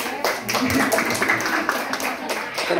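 Loose clapping from an audience at a village reading-corner launch, bursts of hand claps rising and falling in uneven waves, fairly close and loud, with voices mixed in.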